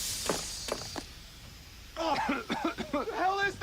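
Gas-masked enemies cough in the video game Batman: The Telltale Series: a few short muffled coughs, then strained, groaning vocal bursts close up.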